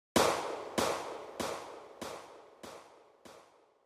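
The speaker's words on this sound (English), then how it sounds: "This gunshot sound effect with delay." A sharp gunshot followed by a string of echoing repeats, about six evenly spaced blasts that steadily fade in loudness.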